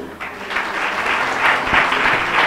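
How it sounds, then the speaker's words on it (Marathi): A church congregation claps in welcome, a dense, steady round of applause from many hands filling the room without speech. "तर शिल्हो कुटुंबातर्फे आपण त्यांचं स्वागत करूया टाळ्या वाजवून"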